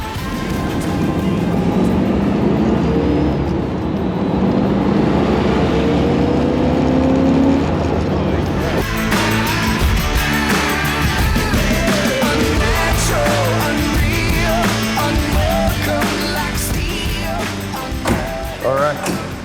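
A 1968 Corvette C3 with a 427 Tri-Power big block engine driving, a loud, rough rumble with rising revs and throttle changes, the engine note getting busier and louder partway through, with some voices over it.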